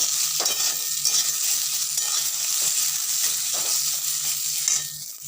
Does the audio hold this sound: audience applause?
no